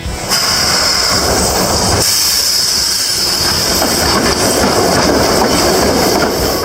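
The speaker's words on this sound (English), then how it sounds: "It represents a snow train doing real work, in real cold on a real railroad" A snow train rumbles steadily along railroad tracks in cold conditions with a constant roar and a high metallic whine, wheels clattering throughout, loud and close.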